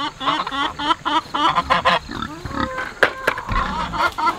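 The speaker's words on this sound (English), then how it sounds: "That will be for distracting the pigs while I feed them the grain." Pigs on a farm grunt and oink repeatedly at feeding time as grain is handed out, a busy run of close, overlapping snorts and squeals with a few louder grunts near the end.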